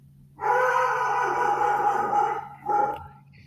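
A dog howls in a long sustained, wavering cry for about two seconds, then gives a second shorter howl, fairly close and loud with no talking over it.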